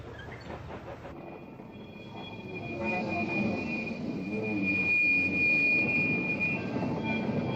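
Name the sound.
1916 battery locomotive shunting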